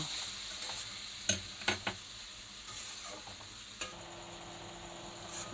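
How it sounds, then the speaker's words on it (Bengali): Mixed vegetables for khichuri sautéed in a pan, with a steady low sizzle under a few sharp scrapes of a spoon against the pan around the middle, then a quieter simmering hiss. "দিয়ে এটা ভালো করে আমি একটুখানি কষিয়ে নেব।"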